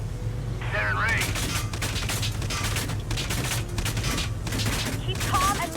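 Interception gunfire in Valkyria Chronicles 4, a steady rattle of rapid shots over a low rumbling hum, loud and continuous throughout, with voices calling out over it.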